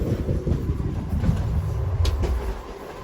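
A Nellore–Vijayawada MEMU express train rolls along after leaving Appikatla station, with a steady rumble and rattle heard from inside a crowded carriage.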